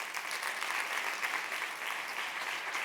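An audience at a design leadership talk claps steadily throughout, a dense, even wash of applause with no pauses and no voices.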